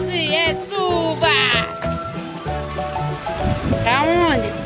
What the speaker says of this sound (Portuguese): É chuva que nós tem pra hoje.